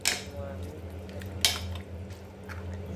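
Spinach and dill greens with chana dal being stirred in a pressure cooker pot, a few clinks and scrapes of a spoon against metal over a low steady hum.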